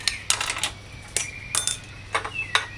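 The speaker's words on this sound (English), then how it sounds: "A sharp knife. Cut lime in half." A sharp knife cutting a lime in half on a hard surface, giving several short separate taps and knocks, close and crisp with brief pauses between.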